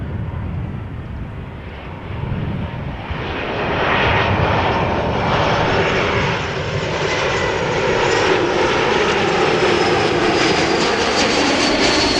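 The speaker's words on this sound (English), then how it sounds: "E2 Embraer 195 arriving from Manchester, where it departed 48 minutes ago." An Embraer 195 E2 jet airliner roars steadily as it arrives at Amsterdam Schiphol Airport, a loud broadband engine rush with a thin high whine, building slightly and holding, no voices.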